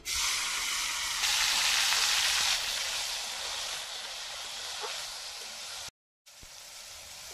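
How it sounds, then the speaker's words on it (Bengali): Tomatoes dropped into hot oil set off a loud, close, continuous sizzle that swells early and then settles into a steady hiss, broken by a brief silent gap near the end. "এই দেখুন তেল গরম হয়ে গেছে, দিয়ে দিচ্ছি এবার টমেটো"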